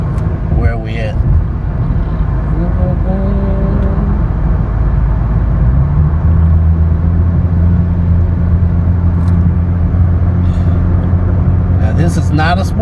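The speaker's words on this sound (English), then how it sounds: "I'll do a quick acceleration test." A sedan on a road test accelerates hard, its engine droning and climbing steadily in pitch inside the cabin, with a voice speaking briefly at the start and near the end.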